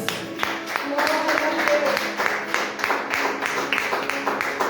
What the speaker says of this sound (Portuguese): as palmas bem fortes para o Senhor Jesus